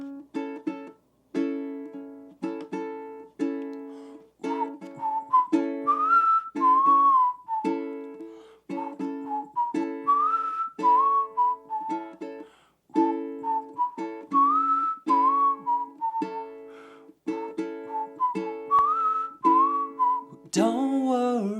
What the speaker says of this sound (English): we're going to start with a whistle.